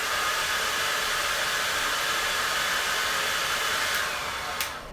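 A hair dryer blasts on its high setting, a loud, steady broadband whoosh of air that holds constant throughout, then briefly shifts near the end, with no talk.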